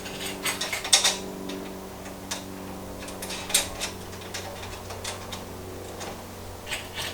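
Ratchet wrench clicking in short bursts while bolts are tightened on a Harbor Freight four-drawer tool chest being assembled, close and fairly quiet with irregular metallic ticks and pauses.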